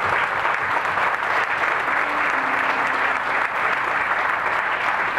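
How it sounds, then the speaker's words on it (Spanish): A church congregation at a Father's Day celebration claps in sustained, dense applause for several seconds, loud and close, with a faint voice briefly underneath. "Vamos a darle un fuerte aplauso,"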